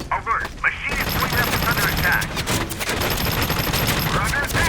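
Automatic rifle fire from an M4A1 in a video game, steady loud bursts running almost the whole time over dense in-game noise, with players talking over it.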